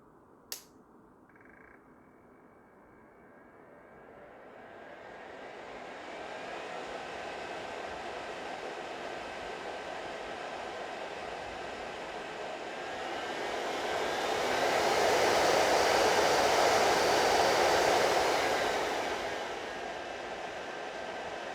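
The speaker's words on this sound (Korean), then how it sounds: "제가 지금 최근 샵에서 가장 잘 쓰고 있는 흡진기 소리랑 좀 비교를 해드릴게요." A continuous whooshing suction motor of a nail drill dust collector spins up after a click, holding a steady airy whine that swells louder before easing slightly.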